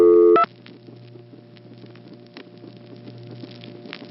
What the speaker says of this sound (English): A lot of the noises you hear here are not random, but are in fact other calls being set up.